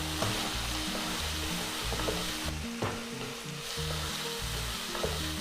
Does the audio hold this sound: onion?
yes